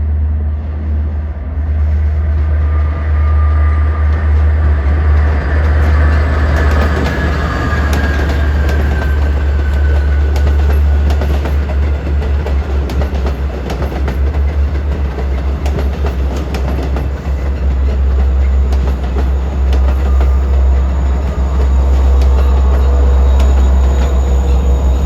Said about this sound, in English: Here comes train 559 off the Oyster Bay branch for Jamaica.